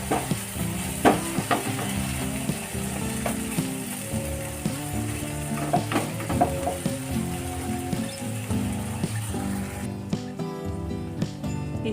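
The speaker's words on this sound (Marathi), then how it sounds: "झाकण काढून बघायचं मिक्स करून घ्यायचं" Spicy tomato chutney is stirred in a hot pan, a continuous sizzle broken by repeated scraping and knocking of the spoon against the pan, close up and without voices.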